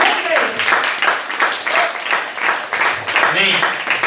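Church congregation clapping to welcome the pastor at a healing service, rhythmic loud applause in pulses with voices calling out over the claps.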